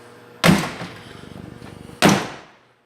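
The door of a 1946 Chevy pickup truck is opened and shut, with two loud metallic thuds separated by a rattling, creaking swing, heard close and clear.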